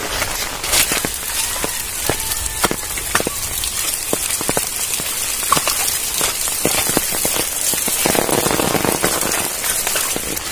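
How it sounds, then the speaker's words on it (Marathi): Heavy first monsoon rain in Konkan's Rajapur area pours in a dense, continuous hiss, with sharp drops pattering and splashing close by and no voices. "हा पहिला पाऊस आहे आमच्याकडे मोठा."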